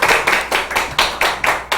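Audience applause in a church gathering after a talk, close and fairly loud, with clapping that pulses in a steady rhythmic beat, several claps per second, filling the room.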